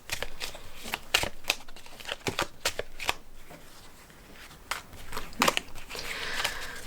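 A deck of tarot cards is shuffled up close, producing a quick series of crisp riffling bursts and soft slides with brief pauses in between.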